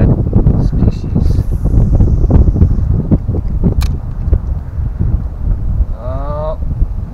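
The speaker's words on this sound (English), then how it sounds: "The wind's moving my anchor." Wind buffets the microphone outdoors on a river during kayak fishing, a loud, steady rumbling roar with gusty swells throughout and a brief voice near the end.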